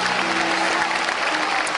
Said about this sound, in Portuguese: Aplauda o Rei Jesus